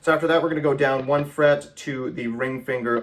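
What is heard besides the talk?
None of the usual background noises is heard.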